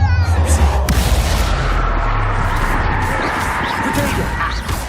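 A Confringo fire-blast spell from Hogwarts Legacy erupts in a loud, dense burst with a deep low-end rumble, followed by sustained crackling combat noise and fiery roar under continuous game mayhem.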